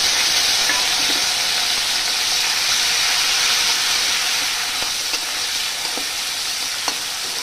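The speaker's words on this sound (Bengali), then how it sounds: "চিংড়ি মাছগুলো ভাজা হলে এবার রসুন আর কাঁচা লঙ্কা এগুলো দিয়ে দেবো।" Shrimp frying with garlic and green chillies in a pan, giving a loud, steady sizzle that stays dense throughout, with a few faint clicks of stirring near the end.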